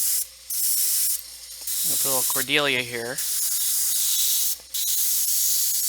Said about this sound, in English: I'm going to spray this black